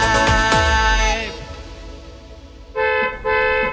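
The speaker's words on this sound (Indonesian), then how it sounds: "Itu sepertinya suara klakson mobil papa" A car horn sounds in two short toots, fairly loud and near, after a stretch of louder tonal sound that fades to a quieter background.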